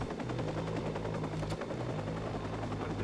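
Continuous thudding helicopter rotor chop in the video game Watch_Dogs, loud and steady, with a faint burst of gunfire-like crackle partway through.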